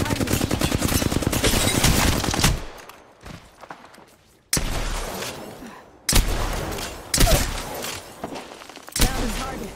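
Loud rapid automatic gunfire from the video game Apex Legends rattles in sustained bursts, broken by short pauses and sharp single shots.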